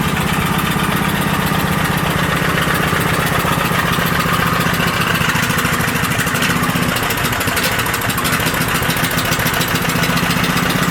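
A small engine idles steadily and loudly after a cold start, running a bit rough and low on fuel, with a constant mechanical drone throughout and no talking.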